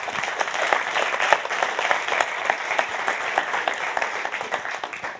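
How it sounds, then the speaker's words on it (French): Dense applause from an audience after a presentation at a data and AI morning event, with many hands clapping close and steadily throughout. "Un grand merci, on peut les applaudir."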